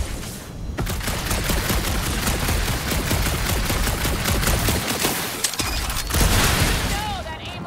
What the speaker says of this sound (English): That aimless shooting isn't gonna scare the monsters away, right?